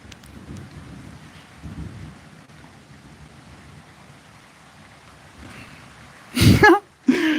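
Outdoor rain with thunder, a low rumbling wash under faint speech that breaks near the end into two loud, sharp crashes.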